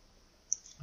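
A single faint computer mouse click during CAD floor plan drafting, a tiny sharp tick in a quiet room followed by a soft low thump.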